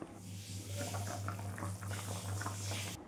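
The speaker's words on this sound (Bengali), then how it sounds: "তারপর ঢাকা দিয়ে কিছুক্ষণ সেদ্ধ হওয়ার জন্য রেখে দেব।" Raw mango pieces with salt, turmeric and water simmer in a covered pan. The bubbling is soft and continuous, with a faint steady hum beneath it.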